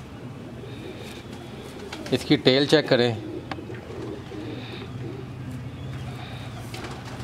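A breeder's prized pigeon from Kasur coos in a short, warbling burst midway, close by and over steady background murmur, with someone talking through the rest.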